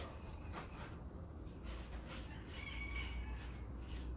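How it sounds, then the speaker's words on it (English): A rooster crows in the distance, faint behind steady low background rumble and some nearby rustling. "I hear that rooster back there crowing."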